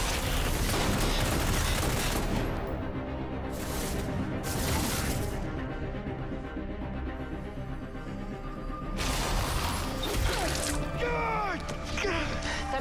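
Gunfire in a tense scene from the superhero TV series The Flash: a dense, loud barrage of crackling bursts that runs throughout, mixed with dramatic score and brief voices.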